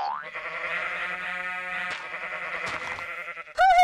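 Minecraft goat bleating: a long, wavering, nasal bleat with a shorter, higher-pitched bleat right at the end. Close and clear, with no talking.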